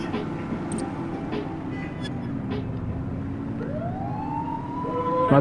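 A police car siren in the video game The Precinct wails and rises under a steady engine rumble, growing louder toward the end amid driving noise.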